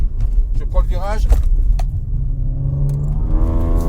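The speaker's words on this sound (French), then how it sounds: "je pète un rapport, j'accélère full gaz" A 510 hp stage 3 ethanol-tuned Audi S5 accelerates at full throttle, engine note climbing through a gear change with loud rising harmonics, close and under the driver's talk.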